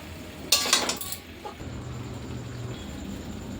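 A metal spoon scrapes and clinks briefly against a pan while spicy chicken kosha is stirred, a short clattering burst followed by a quiet low simmer.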